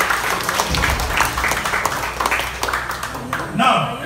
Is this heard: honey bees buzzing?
no